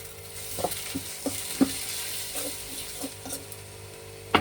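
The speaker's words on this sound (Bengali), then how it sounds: "এখন পেঁয়াজ বাটাটা ছেড়ে দিলাম" Onion paste frying in hot oil in a pan for a Bengali mustard hilsa dish, a steady low sizzle with intermittent stirring scrapes and clinks, close and fairly quiet, no voices.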